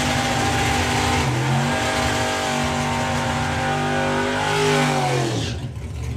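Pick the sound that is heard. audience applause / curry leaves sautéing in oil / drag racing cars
drag racing cars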